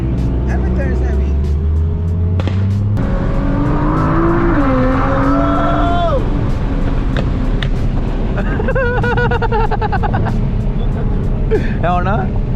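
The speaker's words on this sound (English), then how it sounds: "Bro, the Lambo sounds sick." Lamborghini engine racing on the street, heard from inside a Nissan GT-R, a loud roaring drone with rising and falling revs and a high whine over constant road rumble, with people talking throughout.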